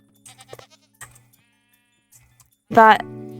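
Goats bleat in the farming video game Sunlit Valley, a few quiet calls early on and then one loud, drawn-out bleat near the end, with soft game sounds in between.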